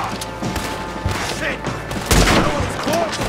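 A rifle shot fired in Red Dead Redemption 2 gameplay, a sharp booming report standing out among game ambience and other gunfire, with someone talking over it.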